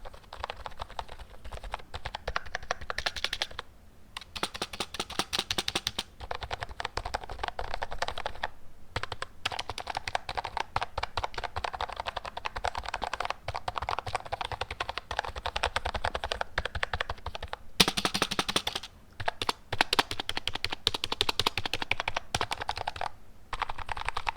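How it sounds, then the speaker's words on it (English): Keys on a Redragon S107 keyboard clatter in rapid, continuous typing bursts, close and clear, with a few short pauses between runs. "So now let's do a little sound test for the keys."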